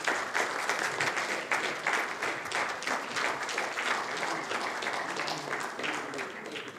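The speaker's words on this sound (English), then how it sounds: "A huge round of applause for Piramanayagam" A large conference audience at a medical society event breaks into sustained, dense applause, steady and loud throughout with no pause.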